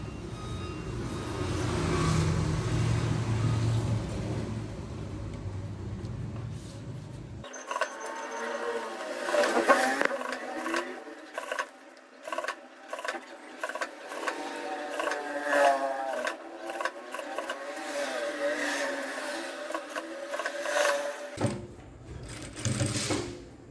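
A domestic sewing machine topstitches a seam on a denim jean skirt with the seam allowance pressed toward the skirt, running in steady close bursts with short pauses between stitching runs.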